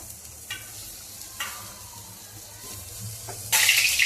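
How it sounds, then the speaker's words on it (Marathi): Onion goes into hot oil in a pan for a spicy vada rassa curry, a soft sizzle with a few scraping stirs and a sudden louder hiss of frying near the end, close and without talk. "आता पहिला आपण कांदा टाकू भाजायला।"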